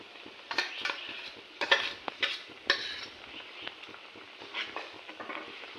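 A spoon scrapes and stirs ground mustard and green chili paste into a simmering pot, giving soft irregular clinks and scrapes over a quiet bubbling, fairly faint and close.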